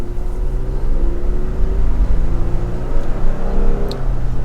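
A Toyota Tacoma pickup truck accelerating from inside the cab, a loud, steady low engine drone with gradually rising pitch that fills the whole stretch, with no talking.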